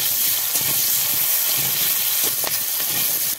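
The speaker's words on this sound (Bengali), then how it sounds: "হলুদ লবণ দিয়ে আলুটাও ভেজে নেব" Potatoes fry in oil with turmeric and salt, a loud, steady hiss and sizzle that stays close and continuous, with faint stirring scrapes now and then beneath it.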